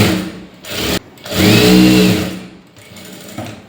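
A sewing machine stitches a blouse lining in short bursts, close motor whirring with rapid needle clatter, stopping and restarting a few times, with no talking.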